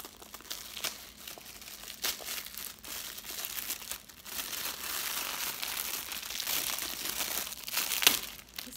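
Packing paper crinkling as a wrapped box is unwrapped, steady close rustling and crumpling throughout with a few sharper crackles.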